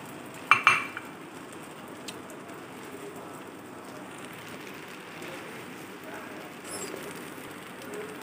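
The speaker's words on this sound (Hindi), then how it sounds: "अब मैं इसे डिश आउट करती हूँ।" A few quick metal clinks of a spoon against a pot and serving dish as a cooked home-style dish is served out, followed by quiet kitchen room noise.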